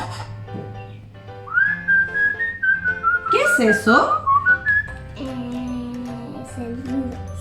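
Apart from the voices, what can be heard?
person whistling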